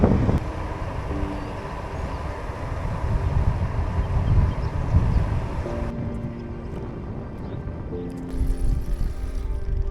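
A strong headwind buffets the microphone while riding a Canyon Grail 7 gravel bike in Scotland, making a continuous low roaring rumble that rises and falls in gusts with faint tonal sounds later on.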